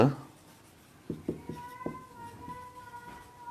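Chalk or marker writing on a board during a chemistry lecture, a series of short strokes and taps with a faint squeak, close and quiet, while a lecturer talks.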